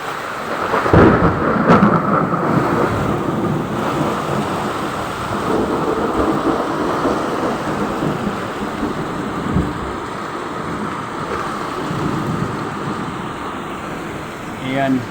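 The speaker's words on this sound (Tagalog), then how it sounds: "Ayan, kidlat at kulog guys." Thunder rumbles and cracks through heavy rain pouring steadily, with wind and distant road noise, a strong storm close by; a voice speaks briefly over the downpour.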